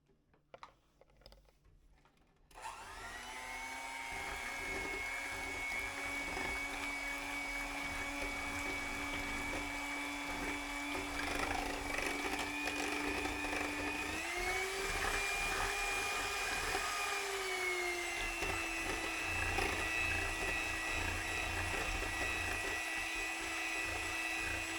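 An electric mixer keeps up a steady, whining hum as it whips chocolate Guinness cupcake batter, starting abruptly and running without a break, its pitch stepping up partway through.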